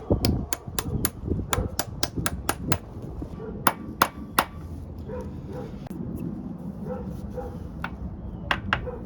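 A new pilot bushing is tapped into a 1978 Datsun 280Z engine with a socket, sharp metallic taps in quick clusters, then a few spaced blows, close and clear over low background noise.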